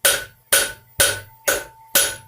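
A cross peen hammer strikes metal in five even, loud, ringing blows about half a second apart, each close and sharp with a short decay.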